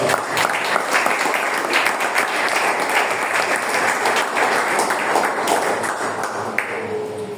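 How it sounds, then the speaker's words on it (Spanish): A church congregation applauds during a Spanish-language sermon, a dense, steady wash of many hands clapping that fills the space for several seconds before tapering slightly at the end. "Dale palmas al Señor."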